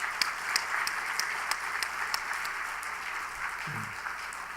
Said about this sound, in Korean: 뜨겁게 한번 박수하십시다